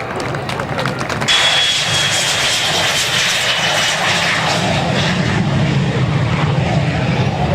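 A fixed-wing aircraft engine roars loud and steady during an air show display at Baldonnel, a continuous broadband drone that fills the whole stretch, with a commentator's voice faintly beneath it.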